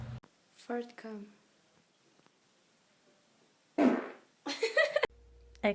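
Several short, loud flatulent bursts from a person, spaced with pauses, with brief voices and laughter between them.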